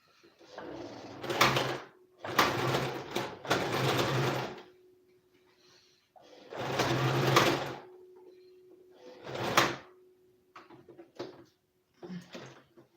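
A home sewing machine that is not stitching properly runs in several short bursts of mechanical whirring, separated by pauses in which a faint steady hum continues, ending with a few brief clicks.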